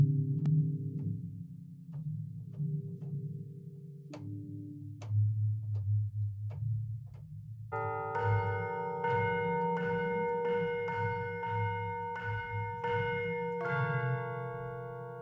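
A Spitfire BBC Symphonic Orchestra tubular bell sample rings through a series of sustained, shimmering metallic strikes, with an unwanted low-mid hum droning steadily underneath throughout.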